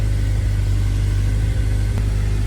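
A Honda S2000 with an FX300 turbo setup drives along with a loud, steady low engine drone and rumble heard from inside the car, nearly unchanging over a few seconds.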